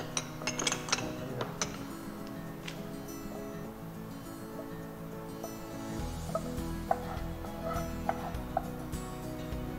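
Cooked paneer lababadar is moved into a serving bowl, with soft clinks and taps of utensils against dishes scattered over a quiet kitchen background, busier at the start and again after the midpoint.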